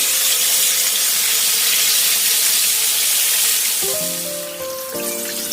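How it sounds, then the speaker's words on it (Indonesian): A whole large fish frying in hot oil in a wok, a loud, steady, close sizzle with no talk. "Goreng sampai ikannya matang dan permukaannya kering."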